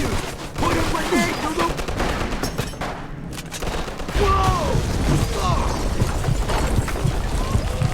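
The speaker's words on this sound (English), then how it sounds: "38 SMG, best gun in the game." Submachine gun fire in the Mafia 2 video game, dense bursts of rapid gunshots crackling almost continuously over game sounds and background voices, loud and close.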